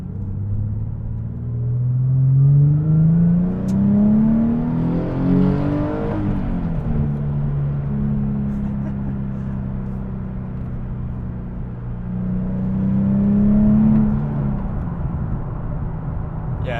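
A Nissan 370Z engine drones steadily while the car drives, rising in pitch twice as it accelerates hard, then settling back to a lower hum, loud and close with no voices over it.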